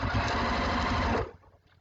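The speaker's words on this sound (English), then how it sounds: "So now I'm going to sew all the way down" A sewing machine runs fast and steady while stitching binding onto a quilt, a loud rapid mechanical whir that stops abruptly and leaves quiet room noise.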